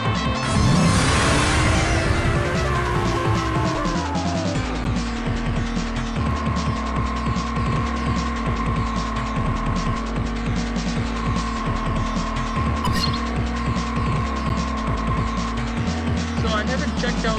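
Cars race through night streets in the video game Oxide Racing 3D, with engines roaring and changing pitch, tires squealing and whooshing passes, loud and continuous throughout.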